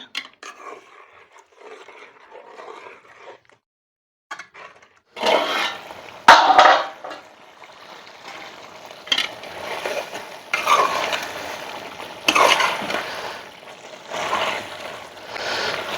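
Spiny gourd curry is stirred in a pan after tamarind juice is poured in, with intermittent bursts of wet scraping and sloshing between quiet pauses.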